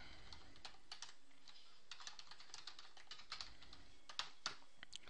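Fingers type on a computer keyboard in quick, uneven runs of light clicks and taps, close and quiet, with a few sharper key strikes near the end and no voices.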